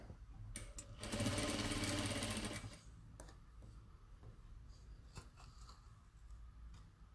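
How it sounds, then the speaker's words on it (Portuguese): A sewing machine stitches pieces of fabric together for a kaleidoscope table runner, running in a steady loud whirring burst of about two seconds, then dropping to quieter handling noise and light clicks. "Eu vou parar a costura aqui, faltando um pé de máquina"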